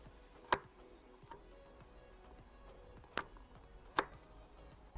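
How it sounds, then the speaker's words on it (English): A knife cuts through five large garlic cloves on a board, giving three sharp, isolated chops spaced a few seconds apart against a quiet kitchen. "I have 5 cloves of garlic and they're not small. I'll cut them like this."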